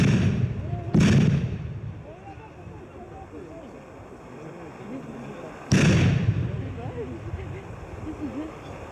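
Two sharp booms of tear gas grenades going off a few seconds apart at a protest site, each with a long rumbling tail, under a background of shouting voices.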